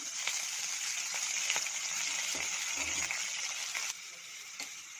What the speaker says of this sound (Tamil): போட்டு நல்லா வதக்கிக்கோங்க.